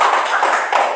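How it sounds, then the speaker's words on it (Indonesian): Hands clapping in continuous applause, a steady dense patter filling the whole moment at close range, as in a classroom math lesson. "Tepuk tangan."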